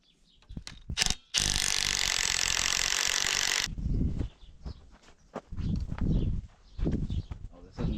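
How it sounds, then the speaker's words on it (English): A wrench works a stubborn bolt holding the front of the motor on a 1947 Allis-Chalmers Model C tractor: a few sharp clicks, then a loud sustained metallic grinding burst, followed by scattered knocks and scrapes nearby. "we're having troubles getting this here bolt off, holding the front end of the motor"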